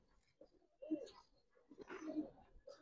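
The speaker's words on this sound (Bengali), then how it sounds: "এই একটা খাকি কবুতর দেখেন" A khaki pigeon at a loft gives soft, faint coos in two short bursts separated by a quiet gap, with a few lighter murmurs around them.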